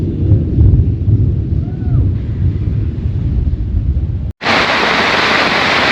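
Wind-driven storm noise at a Wisconsin campground, a heavy low rumbling roar with buffeting gusts, then an abrupt switch to a loud hissing rush like heavy rain or wind on the microphone.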